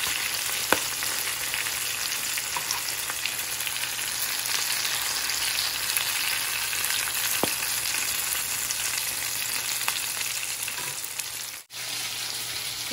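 Oil sizzles steadily around helicopter catfish fillets frying in a pan, a constant close hiss with occasional soft clicks as the pieces are lifted out one by one, and no one speaking.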